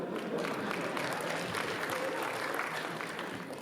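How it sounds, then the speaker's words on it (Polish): Steady applause from a comedy roast audience, dense continuous clapping that holds at an even level throughout. "Wielkie brawa?"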